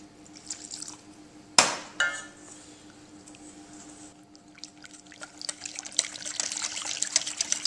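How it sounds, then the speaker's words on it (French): Armagnac poured into a lamb tajine mixture gives a liquid trickle that starts with a clear splash near the beginning, followed by fainter dripping and a rising wet patter toward the end. The sounds are close and moderately quiet, with no talk. "nous allons rajouter 15 centilitres d'armagnac"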